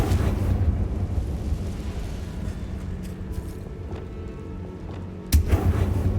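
A Confringo blasting spell goes off in Hogwarts Legacy, landing as one sharp, loud blast late on. Deep rumbling and a few dull booms come before it.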